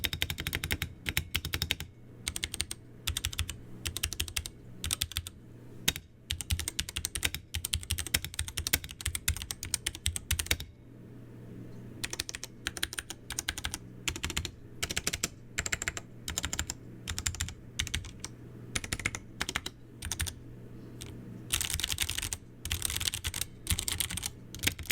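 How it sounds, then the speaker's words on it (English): Typing on a Ducky One 3 SF 65% keyboard with silver switches, close-miked, with rapid bursts of crisp keystrokes in uneven runs, a brief pause near the middle, then fast clacking again. "So let's go ahead and see how this guy sounds"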